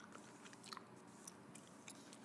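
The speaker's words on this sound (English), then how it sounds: "I hope you could hear a little bit of gum chewing." Gum chewing close to the mic, with soft, irregular wet clicks and smacks spread over a quiet hiss and no voice.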